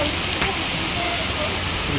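Steady, dense rain hisses evenly throughout, a continuous wash of patter with no clear pauses.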